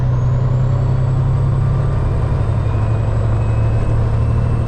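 A loaded truck hauling winter salt pulls away uphill from a slow roll, its engine droning loud and steady with a rising whine, heard close from the cab with no talk.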